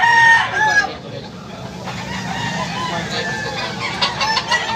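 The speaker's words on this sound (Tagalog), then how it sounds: "Napakagandang manok." A rooster clucks and crows loudly up close, with repeated calls over a busy background of other birds and murmuring voices.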